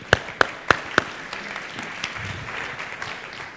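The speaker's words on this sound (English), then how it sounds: "Please, let's give him a big round of applause." Scattered audience applause at a media festival as an executive from The Trade Desk is welcomed on stage, opening with a few sharp, loud claps, then settling into a thin, steady patter.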